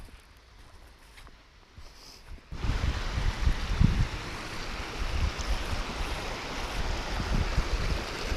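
River water rushing across open moorland near Ronksley Moor, quiet at first, then a loud, close, steady wash with some wind buffeting the microphone; no voices.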